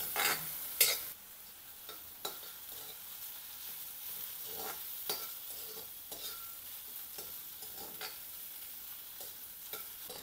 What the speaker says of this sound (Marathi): आता हे सगळे इन्ग्रेडियंट एकत्र आपल्याला चांगले मिक्स करायचे आहेत आणि छान परतायचे आहेत.